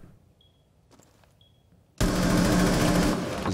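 Gunfire in the video game Rainbow Six Siege: near silence with faint clicks gives way to a sudden, loud, sustained burst of rapid shots that continues to the end.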